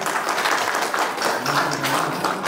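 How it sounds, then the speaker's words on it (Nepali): Applause from an audience at a Gurung community event, a brief burst of dense clapping that carries on steadily throughout, moderately loud with faint crowd murmur underneath. "कृपया जोरदार ताली बजाइदिनु मन गर्दछु"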